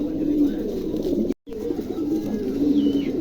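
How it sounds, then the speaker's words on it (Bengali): Fantail (lakka) pigeons at a sale coo in low, steady murmuring calls that fill the clip, with a brief cutout near the middle and no talk. "একদম নতুন 9 খিলের কবুতর"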